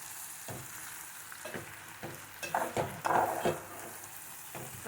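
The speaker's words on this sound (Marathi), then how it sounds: "आणि ते पण आता आपण व्यवस्थित मिक्स करून घेऊया" Boiled eggs are stirred into a sizzling pea masala, with a steady close frying hiss and soft irregular scrapes and clicks of a spoon in the pan, growing busier midway.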